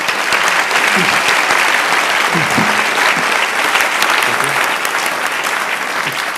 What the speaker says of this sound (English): let us give a round of applause to our panelists